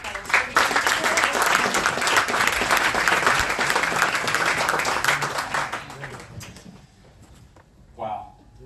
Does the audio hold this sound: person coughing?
no